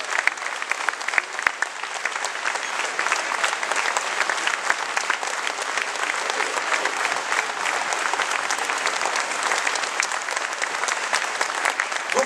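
An audience at a congress of the Cercle Algérianiste in Carcassonne applauds a writer with sustained, even clapping from a large crowd that fills the room for about twelve seconds without letting up.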